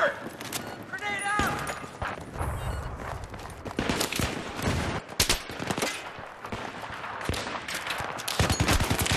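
Rapid bursts of gunfire from the Battlefield 3 video game during a team deathmatch, with repeated close shots running throughout and a voice talking over them.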